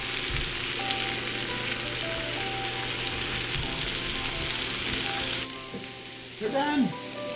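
A big steak sizzles loudly and steadily in a hot pan, the frying hiss continuous for most of the time before dropping off abruptly, followed by a few soft clinks near the end.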